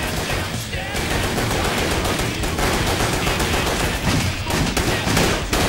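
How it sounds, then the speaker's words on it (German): Sustained machine gun fire in the video game W.E.T., dense and loud with continuous rapid bursts running the whole stretch and no talking. "Maschinengewehr"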